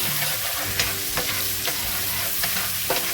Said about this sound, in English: The beans, when you start frying those beans in there